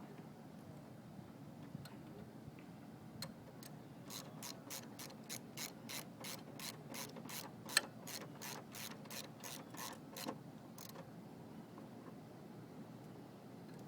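Ratchet wrench snugging down the mounting bolts on a power steering pump of a 1990–93 Honda Accord, a long run of quick, evenly spaced clicks close to the mic, with no talk over it.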